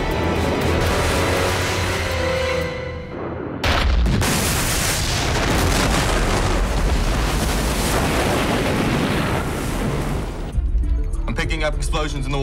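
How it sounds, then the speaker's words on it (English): Explosions erupt in the water around a warship during a naval combat scene, with a heavy booming roar surging in after a sudden burst. Rumbling wash and a second blast follow amid tense shouted voices. "Explosions in the water, sir."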